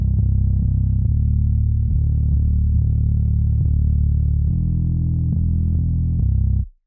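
A compressed bass guitar, soloed and run through the Laney Digbeth bass plugin, plays a steady line of sustained, evenly weighted notes with thick, constant low end and a slightly gritty edge, alone and loud.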